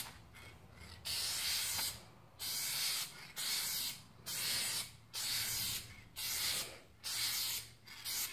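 Spray gun applying a final light coat of paint to a flaking Ford hood under repair, heard as a series of about seven close hissing bursts, each roughly a second long, separated by short pauses.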